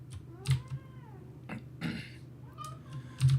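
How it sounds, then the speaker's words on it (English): A pet cat meows several times indoors, rising and falling cries spaced irregularly over a low steady hum, moderately close and fairly quiet, with no one speaking. "My cat's saying hi."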